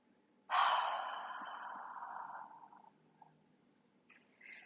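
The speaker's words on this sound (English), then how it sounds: "Take a deep inhale through your nose. Open your mouth and exhale." A single deep, breathy exhale through an open mouth during a gentle yoga session, close and soft, starting after a short silence and slowly fading over about two seconds, followed by faint breathing.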